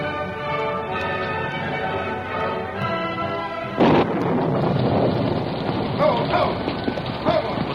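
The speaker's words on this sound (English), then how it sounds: "The storm broke in all its fury as Bob reined up in front of his home" A radio-drama thunderstorm: steady wind-driven rain hisses under a low rumble, then a heavy thunderclap breaks and the downpour surges louder, with scattered cracks and rolling rumbles continuing.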